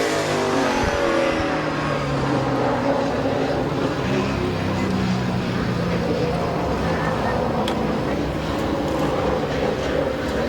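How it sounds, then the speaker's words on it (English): Race cars on a hot lap at Midvale Speedway roar continuously and loudly for the whole stretch, a dense, steady engine drone that never lets up. "using this as a little bit of a hot lap session to get their cars dialed in for the feature"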